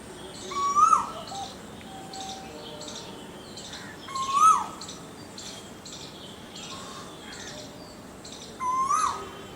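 A dove-like bird calls in a garden in Raebareli, three short separate calls spaced a few seconds apart, moderately near, over a faint background of insect chirps and other small bird sounds.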